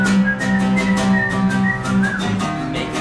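Melodic whistling of part of a song, sustained and prominent with a steady tune over background music.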